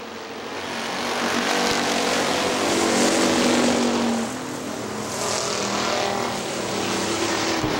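Factory stock race cars roaring around Hartford Speedway Park in a dense, sustained engine drone, several cars close together, loud and steady with a slight dip midway.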